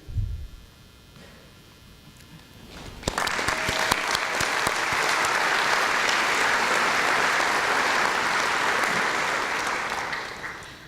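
An audience at a university faculty and staff convocation breaks into applause after a few seconds of quiet room noise. The clapping stays full and steady for about seven seconds, then begins to fade.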